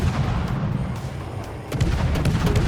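Naval guns of the destroyer Daring firing in the World of Warships game, a dense run of booming shots over a continuous low rumble, with sharper repeated reports clustering toward the end.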